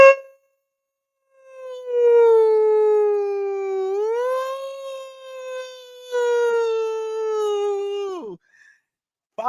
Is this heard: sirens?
yes